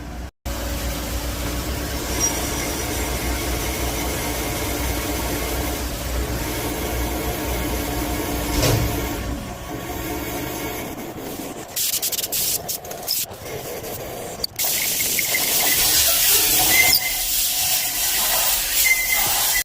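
A reamer cuts oiled valve guides in a Ford 351C cylinder head, a continuous rasping, grinding rub that runs steadily, then shifts to a brighter hissing tone with brief breaks near the end.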